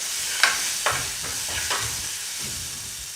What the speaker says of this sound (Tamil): 1 நிமிஷம் வதங்கட்டும்.